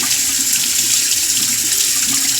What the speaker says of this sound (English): and then I'll turn on the cold water